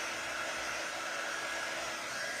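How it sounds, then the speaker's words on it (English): A low-temperature heat tool blows air steadily to dry watercolour paint, a continuous, even hiss-like whoosh that stays loud and unchanging throughout with no talking. "So this is a heat tool. It's not very hot. It's meant for low temp drying."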